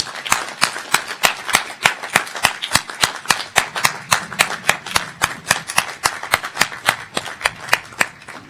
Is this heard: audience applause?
yes